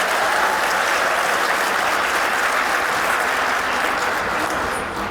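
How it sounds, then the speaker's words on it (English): A high school spring concert audience gives a sustained round of applause, with dense, even clapping filling the whole stretch at steady loudness before easing slightly at the end. "So we want to give them another round of applause"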